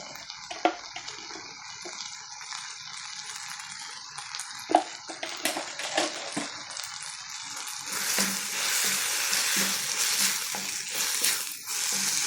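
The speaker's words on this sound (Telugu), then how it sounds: "అల్లం వెల్లు పేస్ట్ మీద కొంచెం పచ్చి వాసన వరకు కొంచెం అట్లా వేయించుకుంటే బాగుంటుంది" Ginger garlic paste and turmeric fry in a pan, a faint sizzle with scattered clinks early on that grows into a louder, denser crackle in the second half, with no voices.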